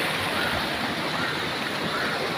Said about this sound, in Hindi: यहाँ से पानी चल रहा है